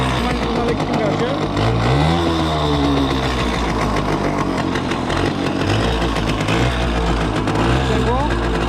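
A Romet Ogar 205 moped engine held at light throttle, a loud, steady buzzing drone running throughout with slight pitch wavers, while voices talk over it close by.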